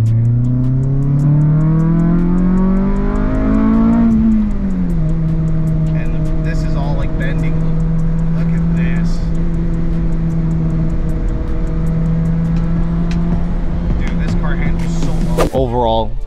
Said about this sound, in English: Hear VTEC for one last time and get out of here.